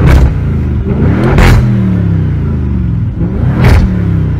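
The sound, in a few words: Audi RS6 sports exhaust revving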